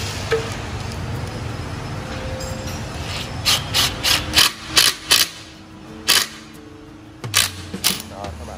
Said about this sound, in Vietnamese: Rồi sau đó thì mình sẽ sử dụng cái con lục giác chìm này